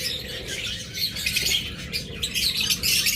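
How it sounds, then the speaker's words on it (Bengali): A pair of violet opaline parrots chatter nearby with shrill, busy squawks and chirps, set against a steady low background hum. "ভায়োলেট অপালাইন পাখি খুঁজতেছেন, দেখুন চমৎকার এই জোড়াটা"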